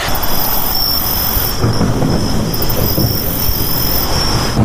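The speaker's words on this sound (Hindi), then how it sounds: "बारिश हो रही है और सुहाना मौसम है" Steady rain hisses continuously, with a low rumble of thunder rolling underneath throughout.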